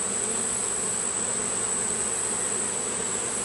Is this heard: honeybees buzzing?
yes